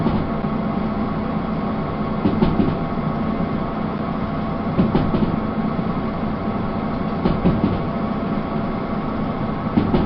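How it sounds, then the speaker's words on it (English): A locomotive in the Derail Valley train game rumbles steadily along the rails, a constant engine drone with faint periodic clicks of wheels over rail joints. "We are slowly but surely gaining speed. We can go through 100 through here. This locomotive blows up at 85 though."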